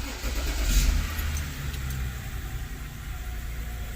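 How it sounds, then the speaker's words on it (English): A BMW E60 being started during an automatic transmission mechatronic service, with a low engine rumble that swells early on and then settles into a steady idle drone, heard close and without talk. "Okay, so now I'm gonna start the car."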